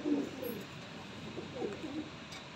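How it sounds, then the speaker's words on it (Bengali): A male golden chapka pigeon coos softly in a few low, rounded phrases, close by but quiet against a faint background. "নর পায়রা"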